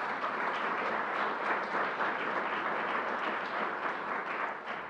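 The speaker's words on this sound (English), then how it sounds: "Let's give them a round of applause." Sustained applause from a large press conference audience at LEGOLAND New York, an even, continuous wash of clapping heard at a slight distance, with no speech.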